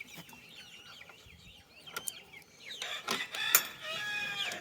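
Chickens cluck and murmur inside a coop with a crow among them, close and fairly quiet at first, growing busier and louder toward the end.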